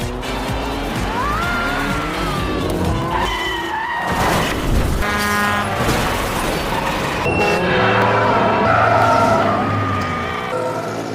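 Car tires skid and screech amid a chaotic crash in a film scene where reckless motorcycle gang riders snarl traffic, loud and continuous with tonal squeals, thumps and a layered cinematic soundtrack throughout.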